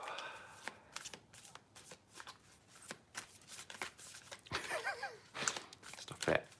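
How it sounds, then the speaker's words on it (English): Playing cards are shuffled and pulled from a deck, a close run of quick riffling flutters and soft snaps, with a voice speaking over parts of it. "that's why I'm about to pull a card."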